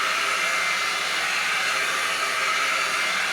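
A Trevor Sorbie High Flow Airstyler blows steadily and loudly while styling hair, a constant whooshing roar with no pauses and no voices.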